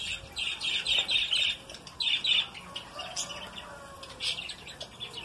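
Budgerigars chirp in rapid bright bursts beside a nest box, with brief wing flutters mixed in, close and fairly loud, the twittering repeating in short clusters.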